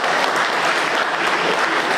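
Conference audience applauding, dense steady clapping from a full room, loud and continuous from start to finish.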